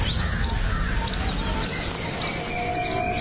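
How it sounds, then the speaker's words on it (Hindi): Birds chirping near village fields, with a koel calling, thin tweets and whistled calls scattered over a steady background wash, moderately distant, no speech. "चिड़ियों की आवाज सुनाई देगी।"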